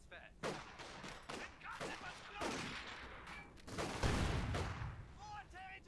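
Mixed battlefield gunfire from Company of Heroes 2, with bursts of shots and explosive thumps. German MG42 machine-gun fire lays down suppression on Soviet troops. Play-by-play commentary runs over the fighting throughout.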